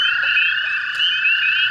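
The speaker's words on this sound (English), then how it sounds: "There are literally like hundreds of toads out here tonight." A dense chorus of many toads trilling at night, a continuous, steady, loud drone filling the air with no pauses and no voices.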